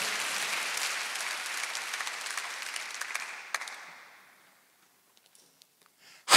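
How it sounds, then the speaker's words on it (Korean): A church congregation applauding during a Sunday service, a dense burst of clapping that fades out gradually into near silence, followed by a sudden loud sound at the very end. "박수하세요."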